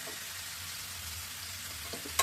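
Green chilies frying in hot oil in a home kitchen give a steady, close sizzle and crackle that runs unbroken for the whole stretch, with no voices over it.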